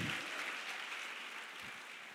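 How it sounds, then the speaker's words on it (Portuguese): A church congregation claps at a faint, distant level, a soft wash of applause running steadily for a couple of seconds. "Pode aplaudir Jesus"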